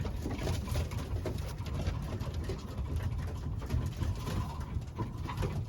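Domestic racing pigeons coo softly around their loft on a fine early-September day in England. The low, throaty calls overlap steadily against quiet outdoor background noise.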